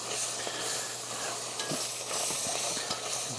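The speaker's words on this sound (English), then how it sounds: "We're gonna stir that in good." Celery and bell peppers are stirred into a brisket, shrimp and sausage gumbo pot, making a steady hissing sizzle broken by a few soft scraping strokes of the spoon, with no talking.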